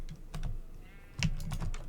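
Sheep in a blocky video game world bleat a couple of times, fairly faint and close, mixed with quick computer keyboard tapping clicks scattered through.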